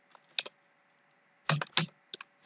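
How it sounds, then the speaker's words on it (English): Computer keyboard typing in short bursts of quick, crisp key clicks, close and clear, separated by brief pauses in an otherwise quiet room. "what am I typing?"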